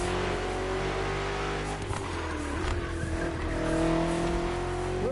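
A BMW M car racing in The Crew Motorfest, its engine droning steadily with shifting pitch and brief tire squeal, all laid under continuous game music with no one speaking.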